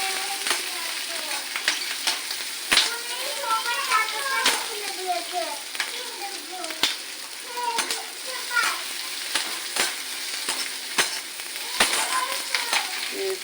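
Capsicum and green chilies sizzle in a hot pan while a utensil stirs them, with steady frying hiss and occasional sharp scrapes and clinks; faint voices sound in the background.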